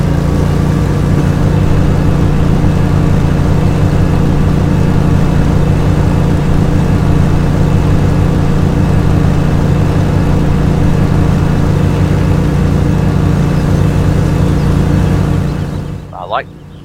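A Grasshopper mower engine in a farming video game runs at a loud, steady drone throughout, then cuts off near the end.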